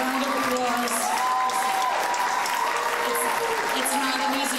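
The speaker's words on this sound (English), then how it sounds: "let's give an extra round of applause." Graduation audience applauding at a practical nursing ceremony, a steady wash of clapping that holds for the full length with faint voices and music mixed underneath.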